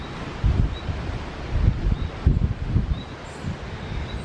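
Strong storm wind gusts around a low-cost greenhouse, its cover tearing loose at the fixing points, giving a loud rushing buffet with repeated rustling bursts and flapping surges.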